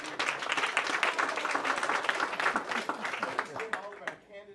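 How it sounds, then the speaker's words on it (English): An audience at a Wakulla County Christian forum for candidates applauds steadily and fairly loudly for a few seconds, with some voices mixed in before the clapping thins out at the end. "give yourselves a round of applause for actually being here and showing up"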